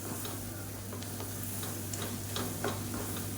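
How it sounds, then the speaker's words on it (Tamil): Kashmiri chili powder and spices fry in hot oil in a pan, giving a soft, continuous sizzle with faint stirring scrapes and light ticks, quiet and close, with no talking. "இப்போ எண்ணெயில் நல்லா பரட்டி விட்டாச்சு"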